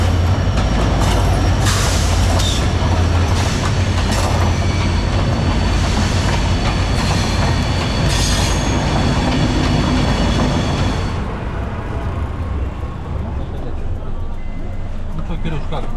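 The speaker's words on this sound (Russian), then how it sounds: "иногда здесь проходит поезд, и все продавцы расходятся по сторонам" A train rumbles and clatters past nearby through a market in Dhaka, Bangladesh, loud and continuous, with people talking and a busy crowd around it before the noise eases.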